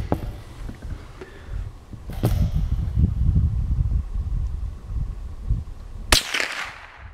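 Gunshots while target shooting outdoors, two sharp reports, one around the middle and a louder one near the end, over a low rumbling wind-like background.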